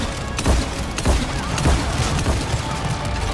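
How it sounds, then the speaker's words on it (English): Turret fire rattles during a Mass Effect 3 battle, a rapid burst of close, heavy gunshots repeating roughly every half second over a continuous noisy backdrop of combat. "Oh my god, that frickin' turret."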